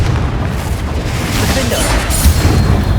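The Confringo blasting spell in Hogwarts Legacy goes off as a loud, rumbling burst of explosive noise that rolls on steadily for a few seconds, close and heavy, with no gap of quiet.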